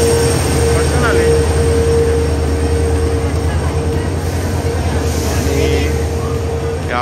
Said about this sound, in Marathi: आणि आपली ट्रेन आली महालक्ष्मी एक्सप्रेस.